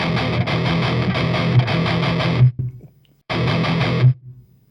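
A BluGuitar Amp1 Mercury amp pushed into a heavily distorted metal guitar tone, with two loud chugging riffs split by a short pause and a fuzzy, buzzy edge like a broken speaker.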